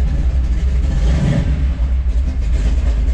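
A 1956 Chevrolet 3100 pickup engine runs just after starting, a steady low, loud rumble with slight pulsing, close by and without talk.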